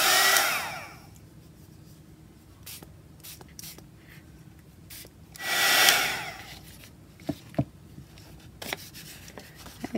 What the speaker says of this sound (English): And then I'm going to use the heat gun on that straight away.